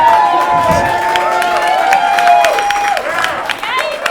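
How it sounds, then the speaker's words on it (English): Stand-up comedy audience applauding and clapping, a dense wash of many hands with some cheering, steady and loud throughout, the comedian talking over it. "so it only deserves half the claps, but you just doubled it"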